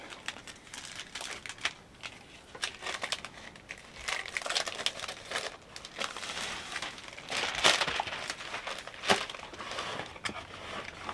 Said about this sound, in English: So then we're going to go in and we're going to add our cellophane.